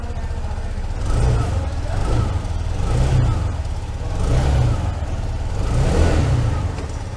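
A 2024 TVS Jupiter scooter engine revs up and settles several times in rolling surges over a steady running drone, close by.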